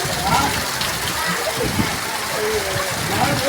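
Water splashes and patters steadily as boys bathe outdoors under a flowing stream, a continuous wet spattering with voices calling out over it.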